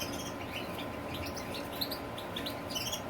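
Small birds chirp in an aviary, a scatter of brief high tweets and calls repeating through the clip over a steady background hum, with no talking.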